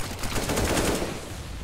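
Dense, continuous automatic gunfire in Counter-Strike: Global Offensive, a steady close burst of rapid shots lasting the whole moment with no pause and no talking over it.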